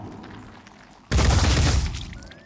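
Gunfire erupts in the Phoenix Point strategy game: after a quiet stretch, a sudden loud burst of rapid shots rolls into a dense fusillade of booming reports that lingers and slowly fades.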